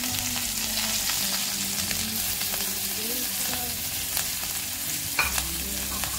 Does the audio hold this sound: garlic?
yes